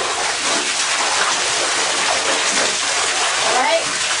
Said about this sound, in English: this is how you rinse the tub out